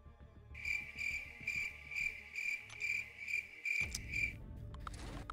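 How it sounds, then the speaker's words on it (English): Crickets chirp in steady repeated pulses, a bright close chorus of about eight bursts that breaks off near the end into low rumbling noise. "Those are crickets,"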